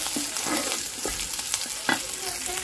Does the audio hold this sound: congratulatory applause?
no